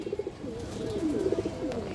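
A pigeon coos close by in soft, rolling low calls, repeated in short bursts for a couple of seconds with no talking.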